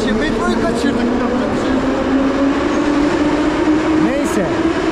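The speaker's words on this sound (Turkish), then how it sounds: "Metro gelmiş" A metro train arriving at a station in Tbilisi, a steady loud rumble with rail hum and faint squeals filling the platform throughout.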